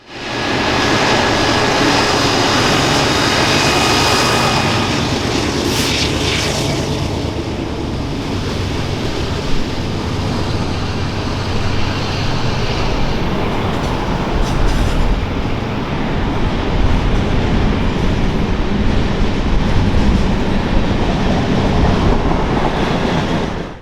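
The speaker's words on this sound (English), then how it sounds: "a westbound mixed freight is climbing the grade" A westbound BNSF mixed freight train climbs a grade at Winona, Arizona, on the Southern Transcon. Its loud, steady rumble of locomotives and rolling wagons carries on throughout with no break.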